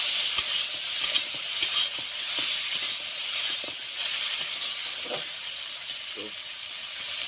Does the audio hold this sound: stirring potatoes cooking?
yes